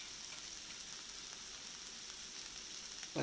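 Curry leaves and green chili sizzle quietly in hot oil for a clam meat roast, a soft, even crackle that holds steady, with a small stir or bump at the very end.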